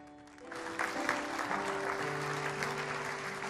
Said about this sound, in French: Pourquoi tes acclamations sont-elles aussi molles ce matin?